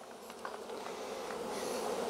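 A steady, dense buzz of many honey bees, close and continuous throughout, with no talking.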